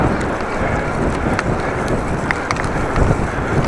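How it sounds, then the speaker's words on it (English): Strong heavy wind roaring through trees around a cyclist, a loud continuous rumbling blast with gusty buffeting against the microphone throughout. "A lot of wind and the trees around me."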